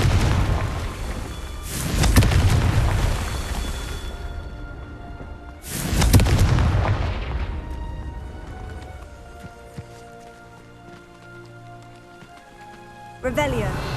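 Confringo blasting spells exploding in the video game Hogwarts Legacy, two heavy booming bursts with long rumbling decays that fade into quieter magical tones, then a sharp new crackle at the end.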